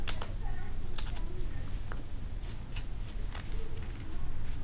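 Scissors cutting book pages into a cone shape, a few crisp snips and paper rustles close by over a faint steady background hum.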